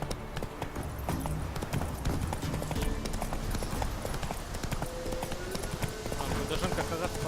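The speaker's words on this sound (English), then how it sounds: "Так, где моя лошадь?" Horse galloping in The Witcher 3, rapid rhythmic clip-clop hoofbeats running throughout under someone talking, with game sounds mixed in.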